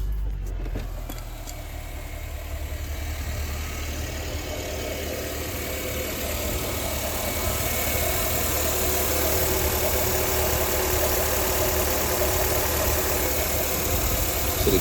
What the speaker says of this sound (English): we're just gonna start the car up, make sure everything is good before putting everything back